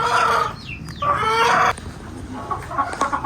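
Chickens cluck in loud bursts close by, with a brief pause and then softer clucking and calls continuing in the background.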